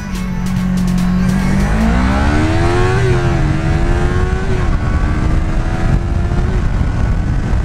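A Yamaha R3 motorcycle engine running loud and close, its steady whine dipping and rising through downshifts toward first gear, with engine pitch stepping and sliding as revs change, no talking.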